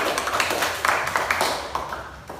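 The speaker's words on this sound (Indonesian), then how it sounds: "Oke, tepuk tangan untuk Suci" Students in a classroom give a short round of applause, with light, uneven claps popping irregularly at close range and tapering off near the end.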